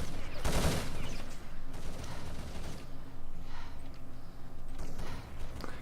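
Counter-Strike match action: a sharp burst of gunfire and a grenade blast up close, then mechanical clatter and a few more shots over a steady game background.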